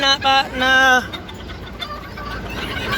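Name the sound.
hen clucking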